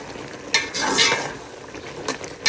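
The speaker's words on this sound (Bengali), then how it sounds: "এখানে আর একটু নেড়ে চেড়ে দিতেছি" Spoon scraping and stirring okra and shrimp curry in a pan, a few close clattering strokes against the metal with a soft sizzle beneath.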